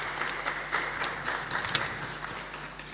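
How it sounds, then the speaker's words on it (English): Moderate audience applause for a panelist at an ECCB lecture series event in Dominica, with distinct individual claps standing out from the crowd and fading slightly toward the end. "Let's have a round of applause for Mr."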